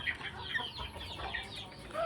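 Young white Yia chickens released in front of a house in Thailand cluck and chirp softly, scattered high calls repeating over a faint outdoor background with no talking.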